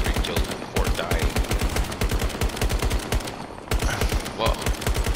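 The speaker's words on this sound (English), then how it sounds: "I keep hearing gunfire when I go over one of these dunes" Sustained automatic gunfire in Battlefield 2042 on the Hourglass desert map, rapid sharp bursts of evenly spaced shots with brief pauses between volleys, loud and close.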